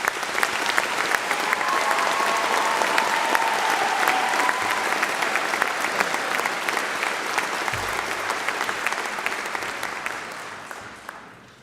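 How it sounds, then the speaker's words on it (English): A graduation ceremony audience for a faculty of health, education and life sciences gives the musicians a warm, steady round of applause, broad and full from start to finish before tapering off at the very end. "Please join me in giving them a warm round of applause"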